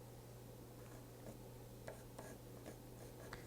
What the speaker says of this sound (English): The teacher pencils in a circle based on 4 plotted points on the tactile graph paper.